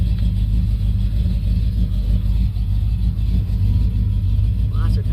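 A 1971 Chevrolet El Camino's engine rumbles steadily and loudly while the car is moving, a continuous low drone with no break.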